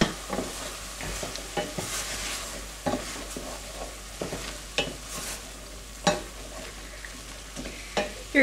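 Ground meat and onions fry in a pan for homemade meat sauce, with a steady sizzle broken by regular scraping stirs of a spoon, close and without talk.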